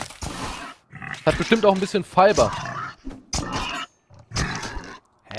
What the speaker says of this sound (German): Das ist kein Wolf, ist ein Schwein.